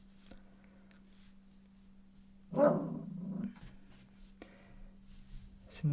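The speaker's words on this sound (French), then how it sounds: "C'est mon chien." A dog gives a short burst of barking and growling in the middle of an otherwise quiet room with a steady low hum, heard alone at moderate distance.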